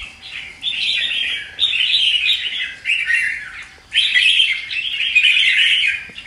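A caged red-whiskered bulbul sings loud, close bursts of bright chirping phrases, several runs separated by brief pauses, with no talk over them.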